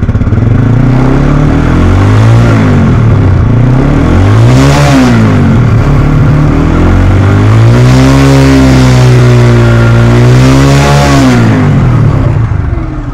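A nearly new 2022 TVS Apache RTR motorcycle idles very loud and close, then revs several times, its engine note rising and falling in repeated throttle blips.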